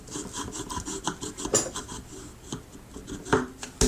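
A file rasps against the tip of curved stylist shears, rounding it off in a quick series of short, close scraping strokes of uneven rhythm, with a sharper metallic click near the end.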